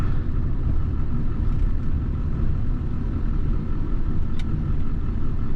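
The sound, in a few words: 1984 Dodge D50 diesel turbo truck engine straining in gear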